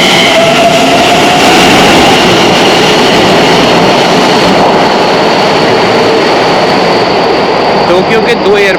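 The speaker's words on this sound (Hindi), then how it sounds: "ये मेट्रो आई थी, हानेडा जा रही है।" A Tokyo Asakusa Line metro train bound for Haneda roars past at close range, a loud continuous rumble and whine that fills the whole stretch.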